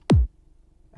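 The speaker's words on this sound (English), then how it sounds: "It is an FL Studio dance kick" A single heavily processed FL Studio dance kick lands alone, a sharp bright click sliding into a short deep thump, then near silence.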